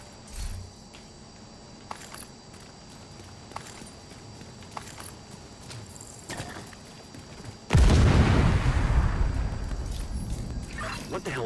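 An explosion in the video game Division 2, a sudden loud boom with a long rumbling tail, breaking through steady quieter background noise and scattered clicks.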